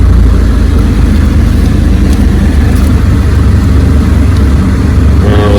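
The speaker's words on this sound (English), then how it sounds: "The idle's much smoother, more consistent." A Ford Escape engine idles with a steady, even low rumble, running continuously and fairly loud throughout, with no voices over it.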